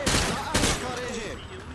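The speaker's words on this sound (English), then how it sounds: "He sprayed bullets all over the damn place." Rifle fired from the hip at targets during training in Call of Duty Modern Warfare 2: two loud, close bursts of automatic fire, followed by a voice talking over the fading game sounds.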